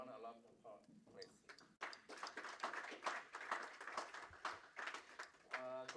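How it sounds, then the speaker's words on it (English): An audience at a live-streamed development event applauds, a dense crackle of many hands clapping for several seconds, mixed with a voice speaking over it. "Let's give a round of applause, please."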